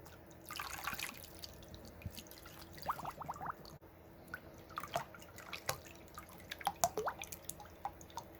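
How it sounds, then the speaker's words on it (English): Water trickling and splashing into a container, with irregular drips and small splashes throughout, close and moderately quiet. "Let's add some water."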